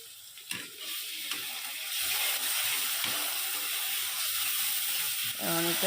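Ground spices and onion paste frying in a pan for fish dopiaza, a steady close sizzle that grows slightly louder as it goes, with a little stirring clatter near the end.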